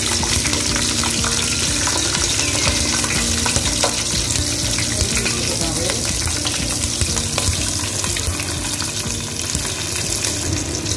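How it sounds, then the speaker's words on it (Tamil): Green chilies, curry leaves and cinnamon sizzle steadily in hot oil as a tempering for king fish samma, with continuous close frying crackle and occasional stirring scrapes, no talking. "இப்போ இந்த போட்ட தாளிப்பு பச்சை மிளகா, பட்டை இதெல்லாம் நல்லா வதங்கிடுச்சு"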